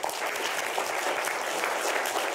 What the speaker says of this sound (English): we get applause here